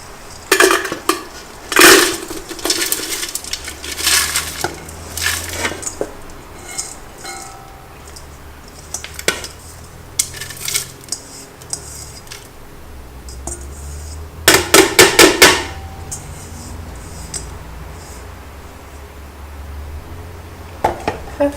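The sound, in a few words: candle wax being put into a metal melting pot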